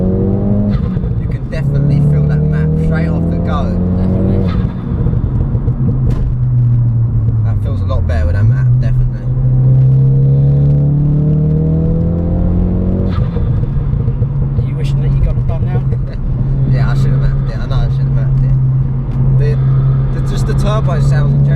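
A Ford Focus RS engine drones and revs through rising and falling gear pulls, with turbo whooshes and intake noise, loud and close, while someone talks over it.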